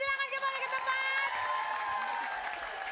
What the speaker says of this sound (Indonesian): sekarang tepuk tangan untuk Venus